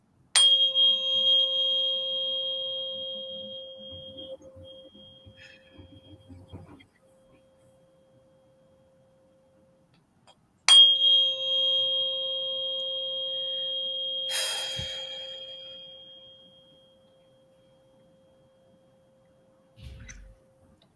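A pure 528 hertz tone sounds twice, each time starting sharply and then ringing steadily before fading away. Brief breathing and rustling come in between the tones and again at the end.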